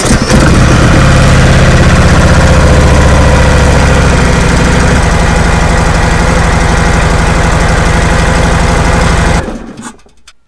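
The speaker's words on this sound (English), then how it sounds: "I'm going to start the bike, run it at 3000 RPM" A Harley-Davidson motorcycle engine fires up and runs loud and close at a steady fast idle for about nine seconds, then cuts off abruptly near the end.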